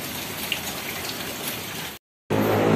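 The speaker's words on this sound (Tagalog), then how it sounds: "naulan nga talaga kabumbrum" Steady rain pattering densely on a surface outdoors, a constant close hiss that cuts out briefly to silence and then returns slightly heavier.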